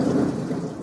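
Rain rumbles in a dense, low roar, with a thunderous storm quality, steady and loud throughout a brief moment.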